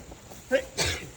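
A quick pair of sneezes near a cave, one sharp burst followed by a second, louder one, close to the listener with faint background noise.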